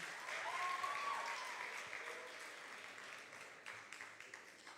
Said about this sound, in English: I want you to give them a round of applause once again.